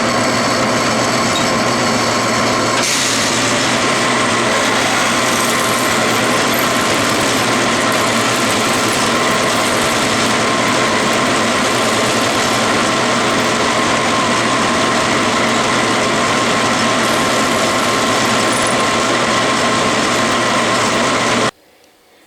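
A loud, steady lathe drone with a whining motor and grinding hum runs continuously for about twenty seconds while drilling with a tool post drill chuck, then cuts off abruptly.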